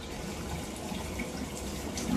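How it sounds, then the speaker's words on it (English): Water runs steadily into a drain pipe, a continuous low rushing and trickling that holds level and swells slightly at the end, heard fairly close with no talking. "getting some extra water turned on here to help get the camera scooting along."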